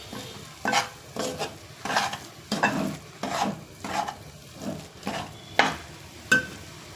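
Grated coconut stirred and fried in a pan on low heat for a jaggery sweet filling, a steady run of rhythmic scraping strokes about every half second, close and fairly loud with a faint sizzle beneath, no voices.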